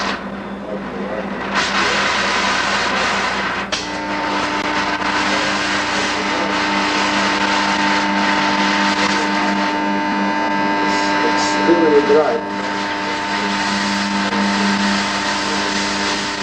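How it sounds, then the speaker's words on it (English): A DC-to-AC inverter unit running in a lab gives off a steady electrical hum with constant tonal drones under broadband noise throughout, while people talk over it. "the sound you hear in the background is that of the unit changing DC to AC"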